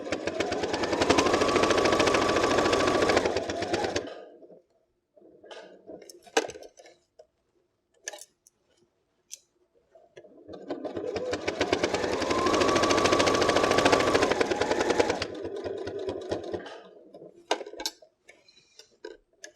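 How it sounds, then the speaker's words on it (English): A sewing machine stitches around the outer edge of a fabric phone case, working through six or seven layers of fabric plus wadding; two long, steady runs of whirring stitching with a quiet pause of small clicks and handling between them. "you're going to sew all the way around the outers"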